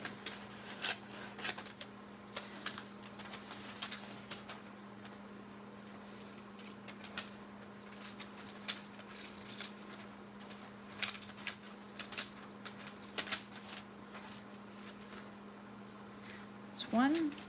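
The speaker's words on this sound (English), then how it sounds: "And I'm just going to cut out what I want to use." Scissors snip out floral paper pieces for a vintage junk journal page in a quiet indoor craft setting, giving irregular short cuts and paper rustles spread across the span, close and soft, while someone talks throughout.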